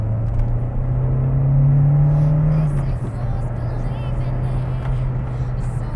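A VW Polo G40 drives along, the engine droning loud and near as it revs up and then settles into a steady rumble with road noise.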